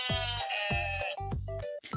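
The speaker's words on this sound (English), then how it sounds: "everyone knows the way a sheep sounds." Sheep bleats from a video game sound in a quick series of four or five loud, wavering calls. They repeat in a steady rhythm with no talking over them.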